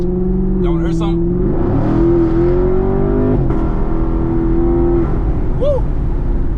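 A 2019 Chevrolet Camaro SS V8 revs hard from a steady idle, climbing and holding a loud, close engine note for a few seconds before settling back, with a brief whoop of excitement near the end.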